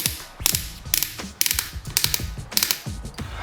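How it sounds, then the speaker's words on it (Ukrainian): A cordless drill-driver's torque clutch, which has 25 settings, ratchets with a rapid series of sharp mechanical clicks in uneven bursts. It is close and clear, with no voices. "Муфта крутного моменту тут працює з щіткими такими фіксаціями"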